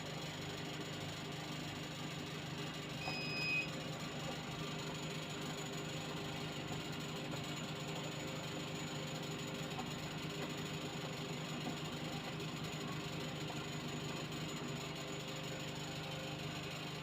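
A 2016 Daihatsu Gran Max engine idles steadily during an exhaust emission test, a constant low mechanical hum with even rhythm, close and fairly quiet, with no speech.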